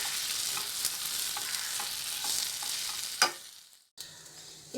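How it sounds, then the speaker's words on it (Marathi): A spoon stirs and mixes boiled potatoes with salt and seasonings for a masala dosa bhaji filling in a sizzling pan, with steady scraping strokes and frying hiss that drop off near the end. "2 मिनिटं चांगलं हे सर्व मिक्स करून घ्यायचं."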